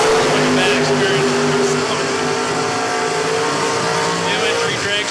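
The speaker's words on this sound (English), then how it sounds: "New entry dragsters making their way." Drag racing cars at a race track during a spring event, a loud continuous engine roar filling the whole stretch with shifting tones, with a voice speaking over it.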